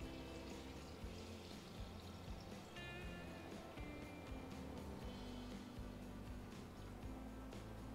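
Water is poured steadily into a jar while making rejuvelac, a continuous quiet trickling and splashing with no pause.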